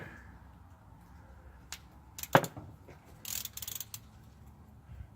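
A half-inch ratchet cracks loose a rear differential cover bolt on a 2002 Mercury Grand Marquis, giving one sharp metallic snap in the middle, then a few lighter clicks and rattles of the tool against a quiet background.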